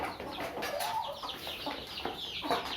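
Several chickens cluck in short, overlapping calls at close range, with a steady farmyard hiss underneath.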